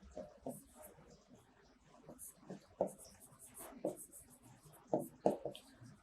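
Chalk or marker strokes as lines are written on a board, a series of short scratchy bursts spaced irregularly, heard faintly beneath a person talking.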